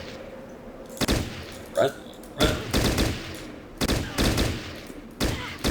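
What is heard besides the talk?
gunfire from squad weapons in video game Fallout Tactics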